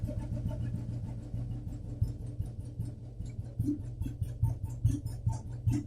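A kick-start Royal Enfield cast iron 350/500 motorcycle engine idling slightly high, a steady low thumping drone with a regular beat and some metallic ticking, heard close and alone.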